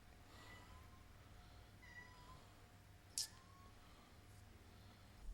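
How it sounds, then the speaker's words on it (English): A pet cat meows faintly in the background of a quiet room, a few soft, drawn-out calls with one brief sharper sound midway and a low steady hum underneath. "I don't know if you guys just heard my cat meowing, but she's very noisy in the background."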